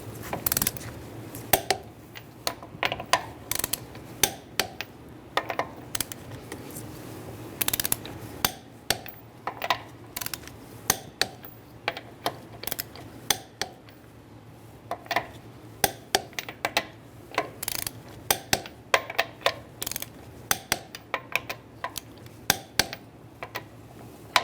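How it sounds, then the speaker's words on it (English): A torque wrench with a 21mm socket tightens the wheel nuts on a 2010-2013 Kia Soul, producing repeated sharp ratcheting clicks in quick bursts, close and fairly loud against a quiet background. "we can torque our wheels to 80 foot-pounds using a 21mm socket"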